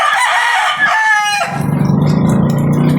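A rooster crows loudly and close by, a long drawn-out call, followed by lower clucking and farmyard noise.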